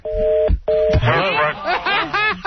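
Telephone dialing tones sound as a couple of steady beeps at the start, followed by a voice and chuckling over a radio show.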